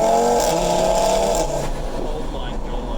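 A Stage 3 Audi RS3 tuned beyond 700 hp runs its engine with a loud, steady drone heard from inside the car, and the pitch drops partway through.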